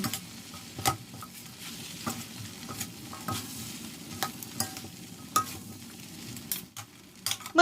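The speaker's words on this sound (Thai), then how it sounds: "ผัดไปเรื่อยๆ ให้ทุกอย่างเข้ากัน" Water mimosa and noodles tossed with dark soy sauce in a pan, a soft continuous sizzle with repeated sharp clicks and scrapes of a spatula against the metal, close and fairly quiet.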